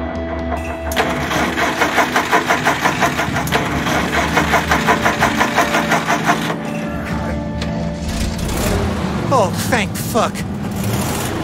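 A car engine in a video game idles and runs with a rhythmic mechanical pulse, then shifts in tone midway, with voices and short chirps over it near the end.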